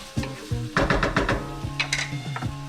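Onions fry over high heat in a pan, a steady sizzle broken by several sharp clatters and scrapes of stirring, close and fairly loud.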